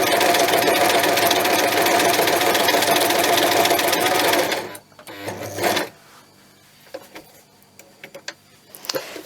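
A sewing machine stitches paper to cloth, a loud, steady, rapid mechanical whir close by for about four and a half seconds, then it stops, leaving faint handling clicks and shuffles.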